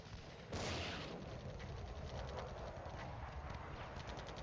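Mortars fire in a Cold War night assault in Flashpoint Campaigns, a muffled burst of booms and rattling impacts that opens with a louder thump and settles into a dense, distant, crackling rumble, with no talk.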